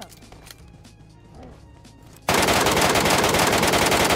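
MK gun firing in BGMI: after quiet game ambience with light movement noises, a sudden dense burst of rapid automatic gunfire starts and continues loud to the end.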